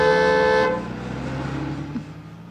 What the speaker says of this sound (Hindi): सामने से कोई भी गाड़ी आए तो हॉर्न बजाना।